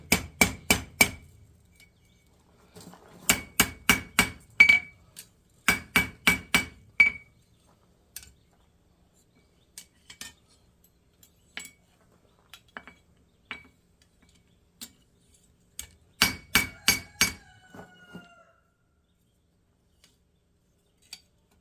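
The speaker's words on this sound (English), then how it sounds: "we'll just start working our hook over the horn of the anvil" A forged hook is hammered over the horn of an anvil, with close, ringing metallic strikes in quick bursts of four to six blows, separated by pauses and lighter taps.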